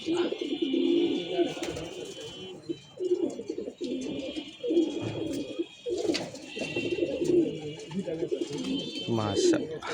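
Racing pigeons at a tournament loft coo repeatedly as birds arrive and land after a 35 km race, soft rhythmic calls close by with faint chirps, while someone talks over them throughout.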